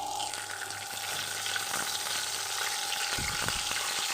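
Two bay leaves sizzling in about two spoonfuls of hot oil in a wok, a constant close frying hiss with a faint steady hum underneath and a few light stirring clicks toward the end.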